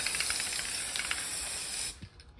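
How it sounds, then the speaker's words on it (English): A continuous close hiss of spray adhesive being sprayed that runs steadily for about two seconds and then cuts off abruptly, leaving near silence. "So let's spray it with glue."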